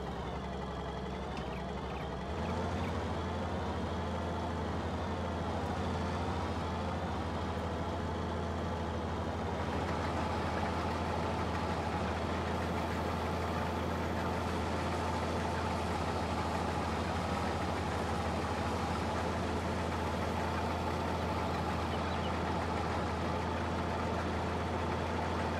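A combine harvester in Farming Simulator 22 runs with a steady, low engine drone and hum, its pitch shifting slightly a couple of times as it works the field, continuous and fairly even throughout.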